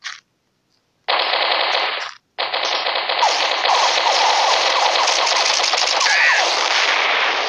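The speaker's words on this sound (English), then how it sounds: "I was shooting like 50 times." Gunfire from the Mini Militia mobile shooter game: after a brief burst and a pause, loud rapid automatic fire rattles almost without a break for several seconds, dense and close.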